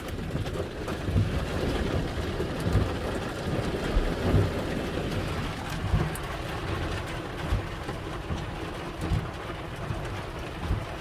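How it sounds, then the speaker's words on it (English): A major hailstorm during intense Southern Alberta thunderstorms in June 2022 pours down as a dense, continuous roar of hail and rain pelting surfaces, with gusty wind buffeting the microphone and a low rumble beneath. "Major hailstorm right now."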